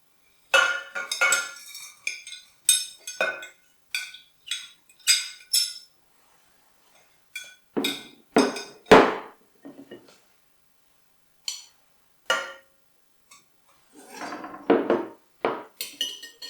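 Sugar, butter and golden syrup going into a saucepan for toffee apple flapjack, heard as scattered close clinks, taps and scrapes of utensils and pan with silent gaps between.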